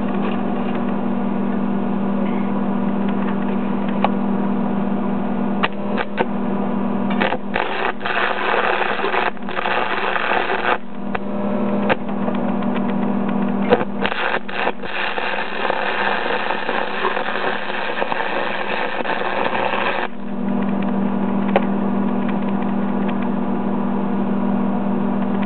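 Stick welding on aluminum square tube, with a constant low electrical hum from the welder and bursts of crackling, sputtering arc noise that start and stop over the stretch, heard close and fairly loud.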